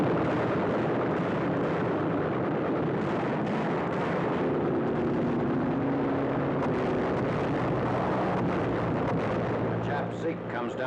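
World War II naval battle east of the Philippines under attack by land-based planes, a dense continuous roar of gunfire, explosions and aircraft engines, loud and sustained, with a narrating voice over it.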